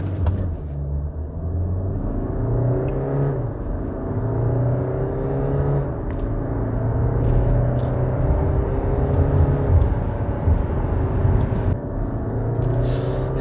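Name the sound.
Land Rover Discovery Sport SUV accelerating from standstill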